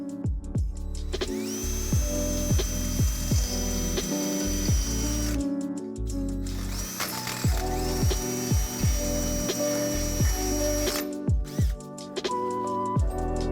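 A power drill whines steadily in long bursts, boring a truck hitch hole out to 1/2 inch on a 2015-2020 Ford F-150, motor pitch holding then stopping, with clicking and clattering metal between runs, close by.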